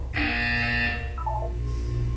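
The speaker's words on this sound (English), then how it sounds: "You will hear a buzzer." Buzzer in the video game Portal 2: a steady electronic tone with stacked harmonics sounds for about a second over low background hum, then a softer, higher tone follows briefly.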